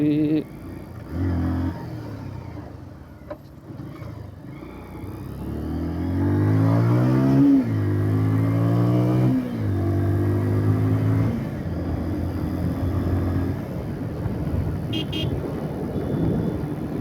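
A motorcycle rides along a narrow village road between paddy fields and a pond on the way from Rajshahi to Natore. The engine drones and rises and falls through several revving swells, with a brief horn toot near the start.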